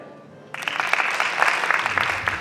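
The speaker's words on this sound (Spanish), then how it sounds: "Que aplauda la chen de Voltaña" After a quiet moment, an audience from Voltaña at an Aragonese-language gala breaks into applause, a dense steady clatter of many hands starting abruptly and continuing to the end.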